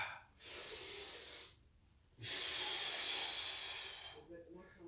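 Deep breaths taken during a gentle exercise: two long, airy inhales heard close up, separated by a quiet pause, with a faint voice at the end.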